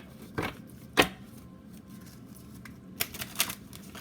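Tarot cards get a quick shuffle by hand, with a sharp riffle snap near the start, a few soft slides, and a final burst of short crisp card flicks, close and fairly quiet.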